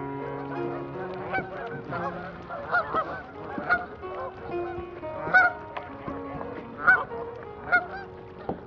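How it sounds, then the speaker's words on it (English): Geese honk loudly and repeatedly at close range, a dense flock chorus of overlapping nasal calls with sharper single honks breaking through near the end, no speech. "These are still geese."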